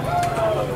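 A pigeon coos once at a bird market, a soft, low, wavering call heard close over a busy background murmur.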